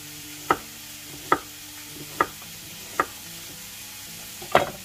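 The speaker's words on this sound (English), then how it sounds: "then we're going to chop the onion quite chunky" A knife chops an onion into chunky pieces on a board, five distinct, evenly spaced thuds over a faint kitchen background hum, the last one slightly heavier.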